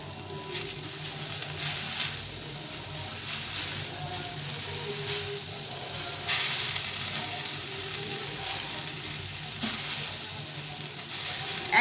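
Carrots, cabbage and chowmein stir-fry in a pan for a vegetarian chowmein, a steady close sizzle broken by repeated scraping and tossing strokes, with no talk.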